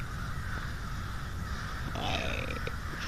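Crows cawing in a residential neighbourhood, a few harsh calls from some distance over a steady outdoor background hum.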